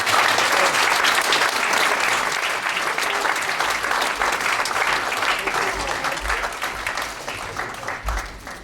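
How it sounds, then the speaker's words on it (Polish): Sustained loud applause from the audience at a university academic year inauguration for young students, steady dense clapping filling the hall with a faint crowd murmur, no speech over it. "Te brawa naprawdę muszą być gromkie."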